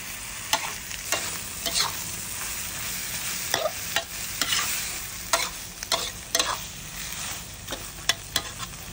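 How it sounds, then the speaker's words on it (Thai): Squid, shrimp and Chinese celery stir-fried with curry powder in a hot pan: a loud continuous sizzle cut by repeated sharp scraping strokes of a spatula, close and without speech. "เดี๋ยวเราก็ผัดคลุกเคล้าให้เข้ากันนะครับทุกคน"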